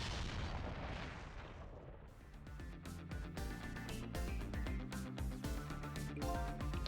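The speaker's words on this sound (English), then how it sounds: "I think I heard an explosion somewhere" A broadband explosion rumbles and fades in the Ghost Trick video game, then gives way to rhythmic game music with punchy beats.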